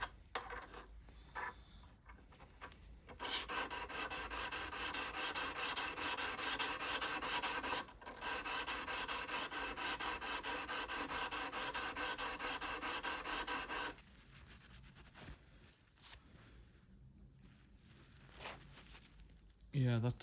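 A coarse oilstone rasps back and forth along a steel blade from a Sovereign BL100 garden shredder/chipper. Close, gritty rubbing strokes run steadily for about ten seconds, with quieter scraping before and after.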